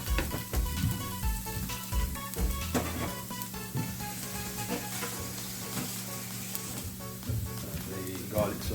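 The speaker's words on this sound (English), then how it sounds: "And the garlic's up. Garlic's cooking away." Fresh garlic sizzles steadily in hot olive oil on a grill, a continuous crackling fry layered under background music with faint talk.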